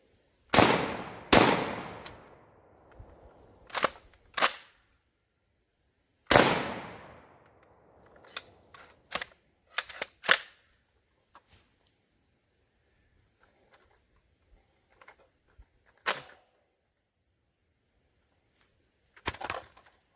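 Shotgun blasts from an RIA VRBP100 bullpup shotgun fed by a drum magazine, loud sharp reports in quick pairs, then scattered single shots with gaps between, ringing outdoors with faint birdsong behind.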